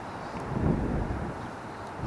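Gusty wind blows outdoors beside the water during a fly-fishing trip, a loud low rumbling buffet across the microphone that swells briefly near the middle before settling into a steady roar.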